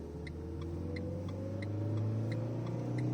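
Manual car pulling out onto the road in first gear, a steady low engine drone that swells gradually as it accelerates, with faint periodic ticking above, close and continuous.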